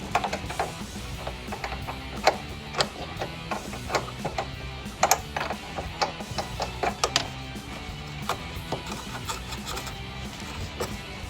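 Airbox retaining nuts come off a Camaro SS with a quiet stream of small metallic clicks and ratcheting ticks, irregular and close, over a low mechanical background.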